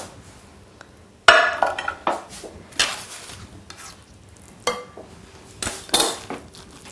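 Spinach tart filling stirred in a bowl, with scraping utensil strokes and clinks against the dish coming in uneven bursts, close and clear, without speech.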